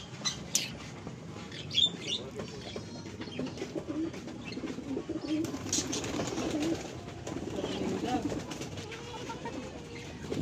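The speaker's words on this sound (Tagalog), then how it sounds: "Ito yung mga ibon" Pet birds, pigeons or doves, cooing softly while being fed, low murmuring calls and occasional squawks and flutters, fairly faint against a busy outdoor background with some voices present.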